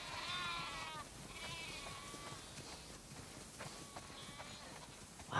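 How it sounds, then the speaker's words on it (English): Several sheep bleat in a barn in The Last of Us Part II, wavering, overlapping calls one after another, with a soft background hum and no talking. "Wow, that's a lot of sheep."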